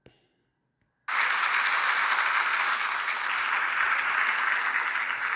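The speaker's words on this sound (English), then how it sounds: "Well, you applaud now." Applause from a crowd in a played video recording starts abruptly after a second of near silence and holds as a steady, dense wash of clapping, moderately loud and even, with no speech over it.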